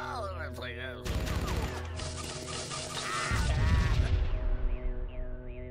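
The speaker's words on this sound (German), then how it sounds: "Ich habe ihn allen Ernstes da hochgesprengt." Explosion blowing up a character in the video game Oddworld: Munch's Oddysee, a loud crashing burst over a rumbling, busy game soundtrack with tonal music beneath.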